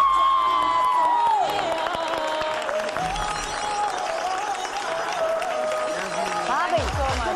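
A TV studio audience applauds and cheers as actress and host Mishi Khan is welcomed onto a Pakistani morning show, with steady dense clapping throughout and a sustained musical tone ringing over it.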